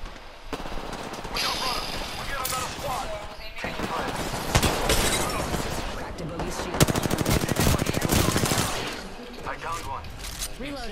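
Heavy automatic gunfire in an Apex Legends squad firefight, with sustained rapid bursts and overlapping shots lasting several seconds, loud and close, while voices call out during the exchange.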